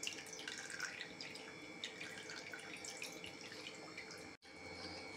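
Water pours and splashes steadily from a tap into a sink while homemade rosogolla is strained, a continuous close rushing stream with small spatters and one brief break near the end.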